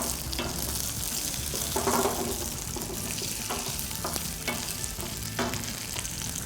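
Green chillies sauté in hot oil for a Tamil brinjal fish gravy, giving a steady close sizzle and fry with a few stirring scrapes and clinks. No one speaks.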